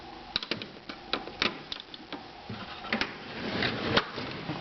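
A tool box drawer is pulled open, giving a series of close, quiet clicks and light rattles from the tools inside, then a short sliding scrape. No one speaks.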